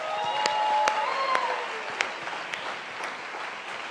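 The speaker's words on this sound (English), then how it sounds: "So let's give all the artists a big round of applause." An audience at an evening arts awards ceremony in Washington, DC claps steadily in a fairly faint, distant wash of applause with a few sharper individual claps standing out.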